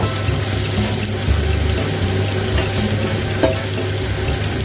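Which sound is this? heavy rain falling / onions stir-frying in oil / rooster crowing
onions stir-frying in oil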